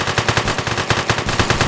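Rapid automatic gunfire in the video game One Armed Robber, a steady stuttering stream of shots that carries through the whole moment at constant loudness, with no talking over it.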